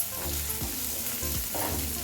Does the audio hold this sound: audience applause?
no